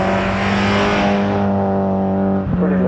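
A Mini at a grass-roots hill climb at Tregrehan accelerates hard, its engine note loud and close with strong harmonic revving that holds steady and then shifts slightly as it changes gear.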